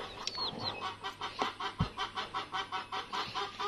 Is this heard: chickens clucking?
yes